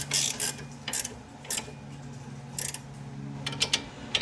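A wrench tightens a 17mm nut on a Chrysler 200 sway bar link, giving a series of short, quiet ratcheting clicks in irregular bursts close by.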